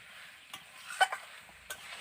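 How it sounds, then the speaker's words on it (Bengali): Potatoes and pointed gourd stir-fried with spices in a wok, a soft low sizzle broken by a few quick spatula scrapes and knocks; no talking. "এবার ভালো করে আলু আর পটলটাকে কষিয়ে নেব মশলার সঙ্গে"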